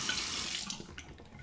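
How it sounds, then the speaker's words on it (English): Hot water streams steadily from a sink tap over a safety razor, a close, continuous splashing rush with small shifts as the blade moves under the flow. "Temper the razor under the hot water."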